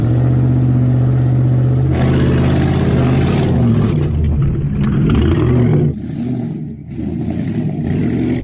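A Hennessey Mammoth or a Hummer H2 accelerates hard on an off-road course, its engine a loud, close, sustained roar. The revs climb and surge, dip briefly near the end, then pick up again.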